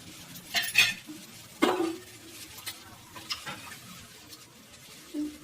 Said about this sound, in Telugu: రుచికి సరిపడా ఉప్పు వేసి ఇలా కలుపుకొని